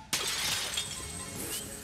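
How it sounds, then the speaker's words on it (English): Objects smashing in Luigi's Mansion 3 on Nintendo Switch: a sudden loud glassy shatter bursts in, followed by scattered tinkling debris and a second crashing break, alone without talk. "We're smashing stuff."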